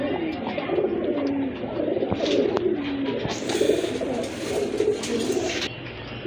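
Pigeons cooing at a pigeon farm: a steady run of soft, throaty coos close by, with a few brief flutters and knocks mixed in.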